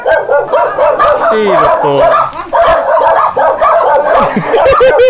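Dog barking, yipping and whimpering in a rapid, loud string of close barks, with people talking over it.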